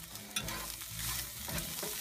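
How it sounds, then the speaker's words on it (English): Seasoned taco meat is stirred in a hot pan, a close scraping of the spoon over a steady sizzle, with no voices. "Stir that around"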